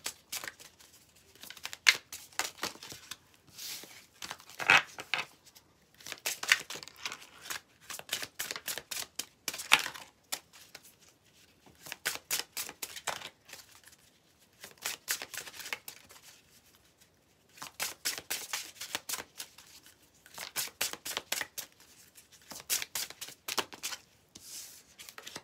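Tarot cards being shuffled and drawn by hand, with soft riffling and tapping in repeated bursts separated by short pauses, close and fairly quiet.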